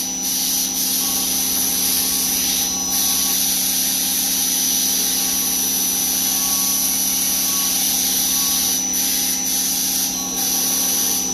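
A steel dagger is ground on a grinder with a steady, loud, continuous whine and abrasive rubbing that hold throughout, broken by a few brief dips where the blade lifts off the wheel.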